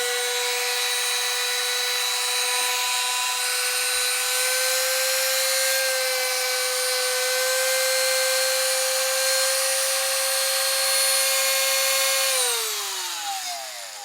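Hammerhead corded rotary tool running at high speed: a steady, loud high-pitched motor whine with a constant tone that holds for about twelve seconds, then winds down as the motor slows.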